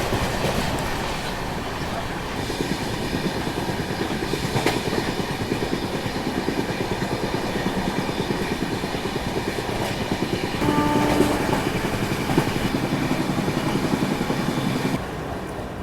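The Grand Trunk Express passenger train rumbles along its tracks with a continuous rolling roar and faint rhythmic wheel clatter, heard from on board, steady throughout and slightly louder toward the end.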